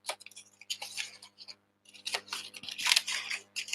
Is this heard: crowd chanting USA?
no